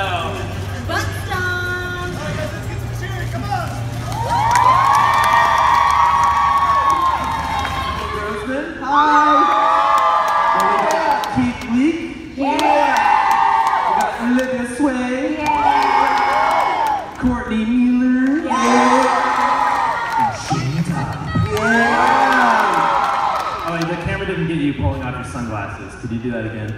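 An audience at VidCon whoops and cheers during a Super Smash Bros match, loud excited crowd bursts swelling in waves, mixed with close shouting and talk.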